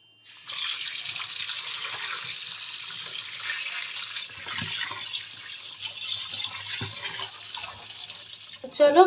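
Tap water runs steadily into a sink as raw mutton is rinsed under it, a continuous splashing flow with small shifts as the meat is handled, ending with a brief clatter.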